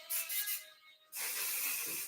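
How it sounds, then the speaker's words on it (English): Heat protectant is sprayed onto hair in short bursts: a couple of quick hissing spritzes, a brief pause, then one longer sustained spray, close and soft, with no talking. "Okay, so we're gonna go in with our heat protectant first."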